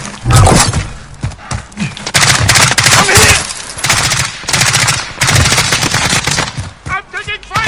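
Video game gunfire: rapid, loud automatic bursts and single shots in an intense firefight, coming in repeated waves over several seconds, with voices calling out between the volleys.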